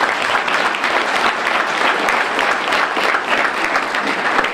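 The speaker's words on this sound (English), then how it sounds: "Give them a hand clap" A crowd at a community breakfast event applauds elementary school students, with loud, dense, continuous clapping that fills the room from start to finish.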